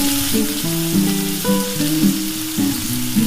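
Boiled hog plums frying in hot oil with crackling black mustard seeds, a loud continuous sizzle heard up close, with a stepped tonal melody running underneath.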